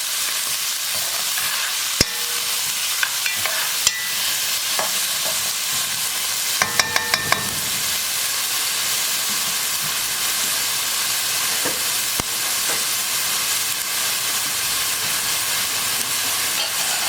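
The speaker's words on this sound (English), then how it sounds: "we're going to give this a good stir" Vegetables frying in a pot for Puerto Rican yellow rice and corned beef are stirred, giving a steady soft sizzle with scattered scraping clicks and a brief burst of clattering strokes; no one speaks.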